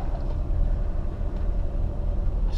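A Chevy II engine with a three-on-the-tree manual transmission pulls away in first gear, a steady low rumble that holds close and even for a few seconds, with no talk over it.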